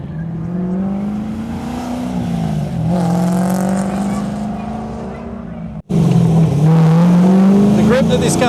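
A race car pulls away onto the track at Winton, its engine droning steadily and rising in pitch through the gear, loud and close from inside the cockpit, with a brief dropout before the engine note climbs again.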